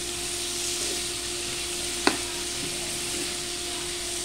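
Tomatoes fry in a pan while being stirred, a steady close sizzle with one sharp utensil clink partway through, no voices.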